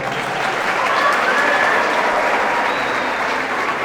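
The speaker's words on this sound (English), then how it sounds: "Okay, applause again" An audience at a talk with an ambassador breaks into sustained applause, a dense, even wash of clapping from a room of people, with no speech over it.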